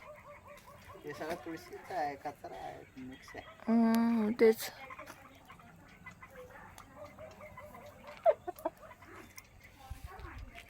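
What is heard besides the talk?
chickens clucking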